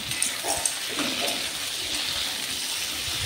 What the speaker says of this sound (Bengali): ভালো করে নেড়ে নেওয়ার পর আলুটা সেদ্ধর জন্য আমি জল দিয়ে দেবো